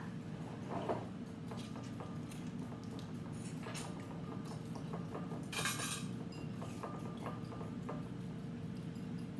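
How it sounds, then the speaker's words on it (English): A metal whisk beats egg with milk and vanilla in a bowl, giving a steady run of light clinks and scrapes against the bowl with a busy kitchen clatter underneath. "I'm going to go ahead and use my whisk, and I'm mixing Jolene's egg with the milk and the vanilla"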